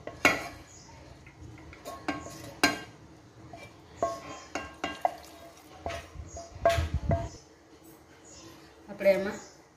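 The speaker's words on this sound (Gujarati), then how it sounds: "હવે આપણે એને મિક્સરના જારમાં કાઢી લઈશું." Cooled spice masala is scooped into a mixer jar, with scattered metal clinks and scrapes of a spoon against the jar and pan while a person talks over it.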